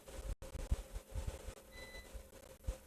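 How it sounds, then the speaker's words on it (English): Repeated reversing-style beeps at a faint level over low rumbling background noise, a short steady tone pattern heard at a distance. "I don't know if you hear the beeping sound now."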